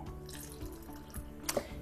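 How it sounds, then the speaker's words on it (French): Tap water runs steadily from a faucet to wash something clean at a sink, a continuous close splashing wash with a couple of brief louder spatters near the end, and no voices over it. "Alors on va nettoyer celle-là avec l'eau du robinet"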